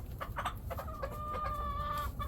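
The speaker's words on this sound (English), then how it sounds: "I'm here with my chickens, feeling the blessing." Chickens cluck and squawk nearby in short bursts, one drawing out a longer call, over a low steady outdoor rumble.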